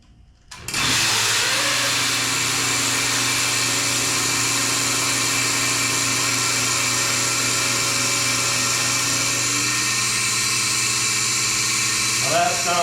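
A Melasty milk machine runs steadily under pressure after adjustment, a loud continuous motor drone with a sustained tonal whine throughout, holding even with a slight pitch shift near the end and no clinking.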